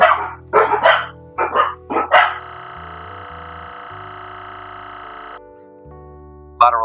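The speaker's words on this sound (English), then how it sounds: "Dogs were going crazy." Several dogs bark in quick bursts of loud, close yips and woofs during a lunge workout, then fall quiet while a steady tonal hum lingers, with one more sharp bark at the end.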